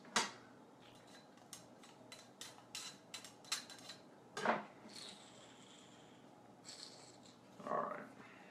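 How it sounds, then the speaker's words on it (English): A metal garlic press handled at a kitchen counter while making meatballs: a run of sharp clicks and clacks, some spaced and some close together, with a couple of louder scraping knocks, moderately near and with no voice. "This is a garlic press."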